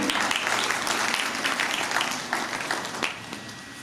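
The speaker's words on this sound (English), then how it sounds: "Please give a huge round of applause." Applause from an audience at an international seminar in a women's college after a call for a presidential address, dense steady clapping that thins slightly toward the end, filling the whole stretch with no talk over it.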